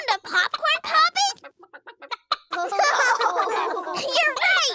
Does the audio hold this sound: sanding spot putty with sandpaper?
no